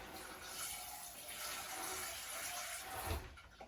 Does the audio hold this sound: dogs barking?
no